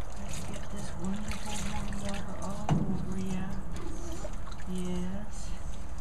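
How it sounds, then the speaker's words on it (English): Warm water trickles and pours over a puppy during a bath, a soft continuous splashing stream heard close up while someone speaks softly over it. "Let's get this wonderful warm water all over you."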